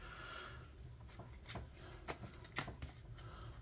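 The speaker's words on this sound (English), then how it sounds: "So we'll get ourselves a decent shuffle in here." A deck of playing cards being shuffled, soft papery riffles and crisp snaps in several quick bursts, close and fairly quiet, with no talking.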